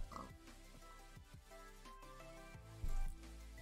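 Minecraft pigs oink in short quiet grunts, several scattered across a few seconds over soft game ambience, with a louder low thump near the end.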